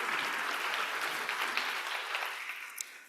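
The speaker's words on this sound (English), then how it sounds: "A round of applause for His Excellency." An audience applauds the Minister for Youth and Sports of Cabo Verde at a Global Youth Forum opening ceremony, a steady wash of clapping from a large crowd, fairly loud and without talk.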